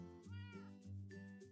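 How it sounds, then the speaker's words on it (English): A cat meows twice in a Minecraft game, two clear, close, drawn-out calls with no other sound. "sometimes I hear weird noises coming from below me, but that's where the cat cafe is"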